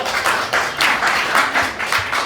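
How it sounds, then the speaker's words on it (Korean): A church congregation claps together in a steady rhythmic beat during a worship service, loud, close and evenly paced, about three claps per second throughout. "우리 하나님 앞에 기쁨의 또 은혜의 박수 올려드립니다"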